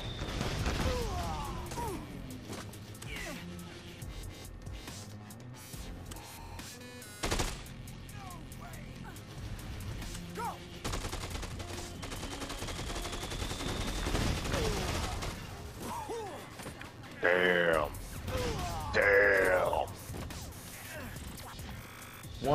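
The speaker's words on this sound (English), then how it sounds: "Maybe if they see us shooting it." Gunfire rattles out in bursts as zombies are shot in Dead Rising 2: Off The Record, with sharp cracks and crashes mixed among game noise and people talking.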